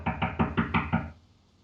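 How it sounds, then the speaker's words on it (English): Knocking on a door: six quick, even raps close by, then silence, with no talk. "I've got someone knocking on my door."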